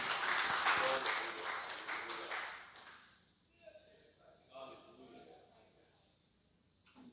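Church congregation breaks into loud applause that fades after about three seconds, leaving a quieter stretch with a few scattered claps and faint voices.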